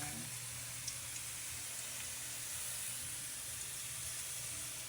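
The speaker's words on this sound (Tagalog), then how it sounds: "Gigisa po tayo ng bawang at sibuyas" Garlic and onion sautéing in hot oil at the start of cooking dinuguan, a steady soft sizzle and hiss running continuously with no talk over it.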